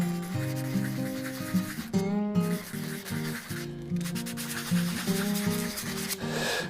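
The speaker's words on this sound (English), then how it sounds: "rough up on the bottom side. Just so that this is a nice heavy grit, so that we get a good bond." Heavy-grit abrasive rubs over the bottom of a resin shaving-brush knot in short back-and-forth strokes, a rough, close scraping that repeats in a steady rhythm.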